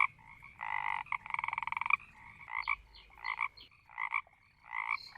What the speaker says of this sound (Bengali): ঠিক বলেছিস, ব্যাঙ ডাকছে